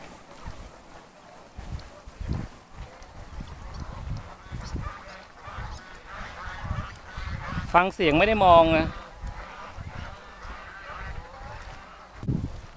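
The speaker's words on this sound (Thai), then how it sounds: "ไม่ใช่เป็ดนี่ห่าน" Geese at a goose farm honk repeatedly in a noisy flock, with a loud burst of honking near the middle, while people talk in the foreground.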